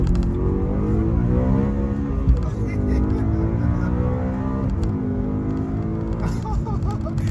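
A BMW M3 E90 V8 makes a first gear pull, the engine roaring loudly and close as revs climb and hold, with a brief shift-like dip midway and continuous heavy exhaust tone.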